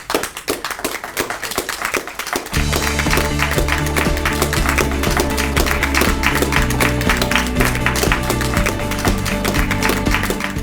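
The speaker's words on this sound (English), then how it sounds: "me and Aaron are going to give you all a big round of applause from the executive team" A small group claps for staff at a company event, a brisk burst of applause over the first couple of seconds before steady, loud music takes over.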